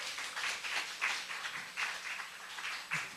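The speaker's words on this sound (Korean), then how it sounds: "박수 한번 쳐주세요." A church congregation at a Wednesday worship service claps together in a short burst, a dense wash of hand claps with a few louder swells, fairly faint and heard alone without talk.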